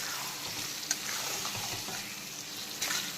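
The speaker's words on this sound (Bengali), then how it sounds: "এখন প্রথমে বেশ কিছুক্ষণ সময় নিয়ে মাটনটাকে ভালো করে কষিয়ে নেব" Marinated mutton sizzles and fries steadily in a pan over low to medium heat, a continuous close crackle with a few sharper pops and stirring scrapes.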